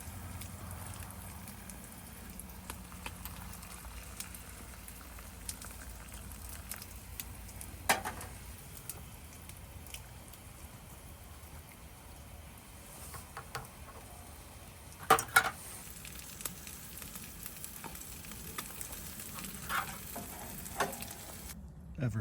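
Eggs frying in a pan over a winter campfire: a faint steady sizzle with occasional soft clinks and scrapes of utensils.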